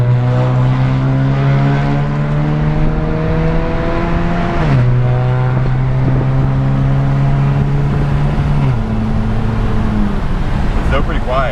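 A muffler-deleted Honda Civic pulls hard on a highway, a loud droning engine note climbing steadily in pitch with two brief dips where gears change, under cabin road noise; people talk in the car.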